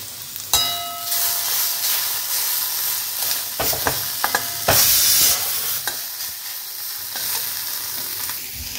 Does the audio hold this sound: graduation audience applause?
no